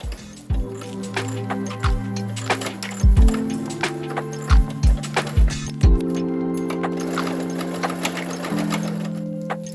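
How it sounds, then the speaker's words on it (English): A home sewing machine stitches a design onto fabric for a teddy bear headband, its needle hum running steadily with pitch shifts and occasional thumps as the fabric is adjusted, close and without talk. "Before I cut that, I'm just gonna sew the design on so that I don't have to worry about that."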